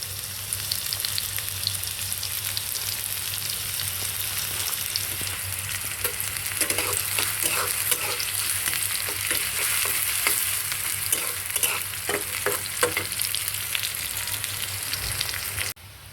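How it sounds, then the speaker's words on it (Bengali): Garlic and onion sizzle steadily in hot oil in a wok, a continuous close frying hiss with stirring scrapes and clatters picking up midway, no voices. "কড়াইতে রসুন, পেঁয়াজ আর তেল"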